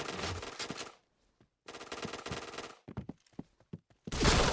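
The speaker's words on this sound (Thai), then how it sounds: "ปืนเราถ้าอยู่ในระยะไกลกระสุนก็กระจายอยู่นะ" Gunfire from a gun in a video game comes in rapid automatic bursts, loud clattering volleys separated by short silences and a few scattered single shots, with no voices.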